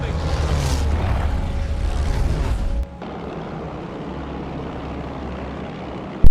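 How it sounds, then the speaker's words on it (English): Bomber aircraft engines approaching during a wartime air battle with biplanes and a triplane: a loud, dense propeller-engine roar fills the first three seconds, then cuts to a lower, steadier rumble that ends in a sudden burst. "Bombers incoming."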